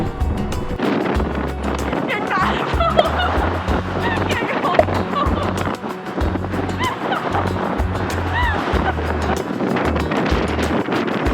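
Strong wind buffets the microphone on a bridge in San Francisco, with a steady low rumble and roar throughout and faint birdlike chirps scattered in the background.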